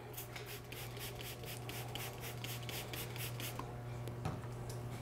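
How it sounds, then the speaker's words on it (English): A bird cage grate is wiped down with lemon vinegar cleaner, producing a close, steady rhythmic rubbing and scrubbing for several seconds before it stops, followed by a light knock, with no voices. "And I'll wipe both sides of the grate."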